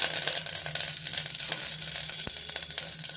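Curry leaves sizzle in hot oil for mutton soup, after fennel has been fried, giving a steady, close crackling hiss with brief pops and spits throughout.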